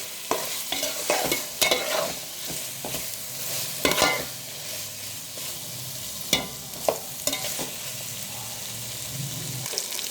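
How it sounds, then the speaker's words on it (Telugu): Mutton frying in spiced masala for a gravy curry, continuous sizzle with repeated loud scraping stirs against the pan, near and unaccompanied by speech. "మటన్ ఫ్రై అవుతుంది"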